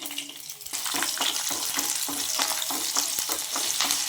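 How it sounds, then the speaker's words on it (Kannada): Mustard and cumin seeds splutter in hot oil as a tempering for curd rice, a dense close crackle of rapid pops over a loud hiss that starts suddenly and holds steady. "ಈಗ ಸಾಸಿವೆ ಜೀರಿಗೆ ಸಿಡಿತಾ ಇದೆ"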